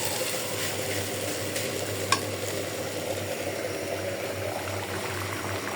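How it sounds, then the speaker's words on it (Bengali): Meat frying dry in a pan after its added water has cooked off, a steady close sizzle with faint stirring scrapes and a low hum underneath, one brief metallic tap partway through. "শুকায় একদম ভাজা ভাজা করে ফেলবো।"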